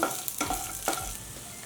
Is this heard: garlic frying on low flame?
yes